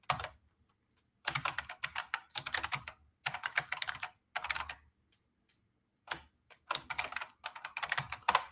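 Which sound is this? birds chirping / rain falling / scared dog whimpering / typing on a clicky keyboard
typing on a clicky keyboard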